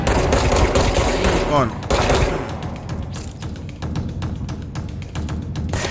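Rapid machine gun fire in the action game Control, a loud, sustained rattle of bursts with broadband transient streaks and game sounds, while a streamer talks over it.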